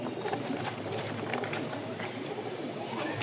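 A pair of sky-blue Giribaz flying pigeons from Rajshahi cooing softly and continuously in a loft, a steady low murmur with a busy, noisy background throughout.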